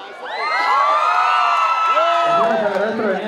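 A loud crowd at the La Jabonera 2023 jaripeo rodeo cheers and whoops with overlapping high shouts that swell and hold, a few scattered claps beneath them.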